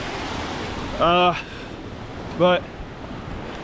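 A river rushes beside a mountain hiking trail near Upper Lena Lake, a steady broadband roar throughout, with two short bursts of a nearby voice breaking in over the water.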